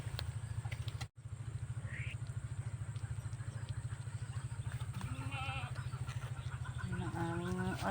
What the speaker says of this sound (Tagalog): Ang alagang kambing.